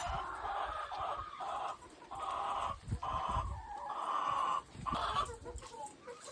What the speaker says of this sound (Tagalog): yan ang maliit kong manukan.